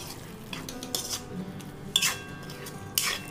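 A spoon scrapes and clinks against a pan while fresh cream is stirred into kadai paneer, with a few sharp metallic taps at irregular intervals and quiet scraping between them, faint and close with no talk.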